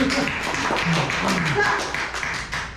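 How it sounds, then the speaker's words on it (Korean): Applause from a seminar audience in a Busan hotel: a steady patter of many hands, moderately loud, with a voice talking over it. "박수 드립니다."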